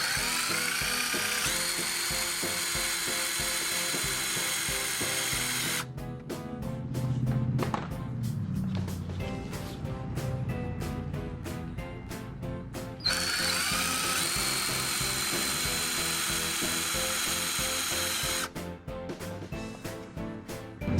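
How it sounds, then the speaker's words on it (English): A power drill with a 3/4 bit whines at high speed, stops, then drills again in two long bursts with brief pauses and rattling between, close and loud, while installing a Prinsu rack on a 2017 Toyota Tacoma TRD Pro. "now we're going to use the 3/4 drill bit to drill the marked spots that we have"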